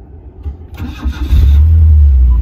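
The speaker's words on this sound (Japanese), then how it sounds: "エンジンかけてみてください" A vintage Isuzu Piazza car engine cranks briefly then catches, settling into a loud, steady low rumble close by.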